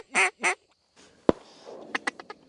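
Wild wood ducks calling during a public duck hunt in Nebraska: two loud, close squealing calls open, then a sharp crack and a quick series of fainter call bursts follow.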